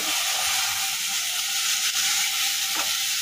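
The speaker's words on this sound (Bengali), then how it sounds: "ফ্রাইড রাইস, মানে ভাত ভাজি করতেছে" Rice sizzles steadily in a hot pan for fried rice, a bright continuous hiss with faint scraping stir sounds and no speech.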